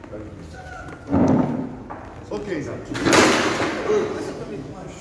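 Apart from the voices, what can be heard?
heavy chair being moved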